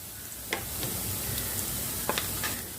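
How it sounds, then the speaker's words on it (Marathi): Moong dal sizzles steadily in ghee as it roasts in a pan, a continuous soft crackle with a few sharper scraping stirs. "आपल्याला हे बदामी कलरचं होईस्तवर छान भाजून घ्यायचं आहे"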